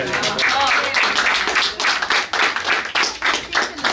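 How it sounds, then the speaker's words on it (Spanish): Audience at a workshop gathering of a popular feminist high school applauds a speaker being introduced, steady close clapping that rises and falls in waves over a few seconds. "Un aplauso."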